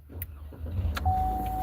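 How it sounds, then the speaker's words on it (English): A car engine cranks and catches inside a cold parked car, a brief starter whir followed by a steady low idle hum, close and alone without talk. "start the engine"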